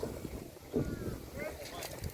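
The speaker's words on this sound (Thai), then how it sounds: "ตอนนี้ลมแรงครับ" Strong wind buffets the microphone outdoors beside a fishing pond, a steady low rumbling roar with gusty swells, while someone talks in the background.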